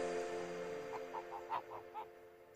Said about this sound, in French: Donc là il y a mes 3 oies de Toulouse.